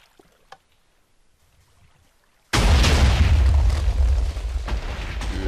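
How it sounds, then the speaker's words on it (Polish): Silence broken by a sudden, loud, sustained roar of explosive fireworks blasts in a blocky video game, rumbling on continuously. "Takie małe fajerwerki z okazji wakacji."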